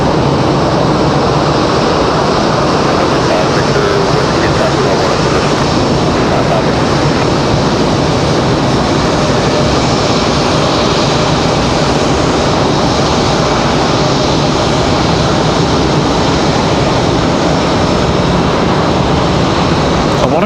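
An Airbus A220 airliner departing Raleigh Durham airport, a broad steady roar of jet noise that holds loud and unbroken, mixed with wind and outdoor rumble.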